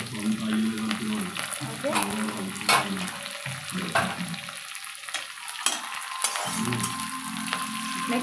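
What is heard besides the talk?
curry leaves sizzling while frying in hot oil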